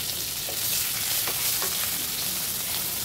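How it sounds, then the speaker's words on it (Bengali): Boiled potatoes fry in a pan with oil, cumin and asafoetida. A loud, dense, steady sizzle fills the whole clip, with a few faint stirring scrapes underneath. "একটু ফ্রাই করে নিচ্ছি আলুগুলো"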